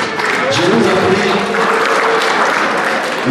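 A church congregation applauds, steady dense clapping sustained throughout at a loud, even level, with voices faintly mixed in.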